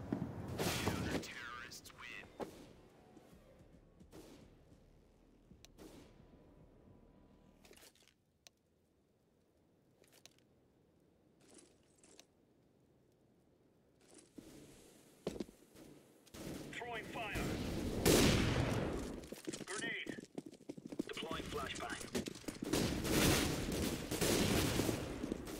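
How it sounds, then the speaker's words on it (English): Counter-Strike gunfire and grenade action with bursts of rapid shots, a quiet stretch, then heavy overlapping blasts and crackling as an incendiary grenade is thrown and fire spreads. "incendiary out. Throwing fire."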